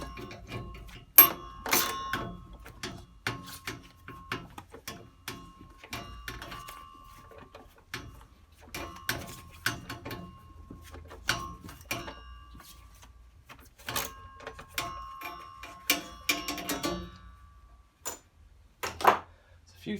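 Ratchet wrench clicking while bolts are undone on an Indesit Innex washing machine with failed bearings: scattered bursts of sharp mechanical clicks, close and fairly loud, with someone talking at times between them.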